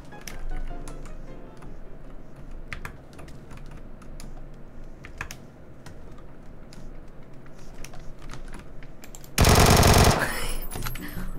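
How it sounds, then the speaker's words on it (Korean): Rapid automatic gunfire in a shooting video game, a steady stream of sharp clicky bursts throughout, ending in a very loud, dense blast near the end. "총소리, 총소리 개커."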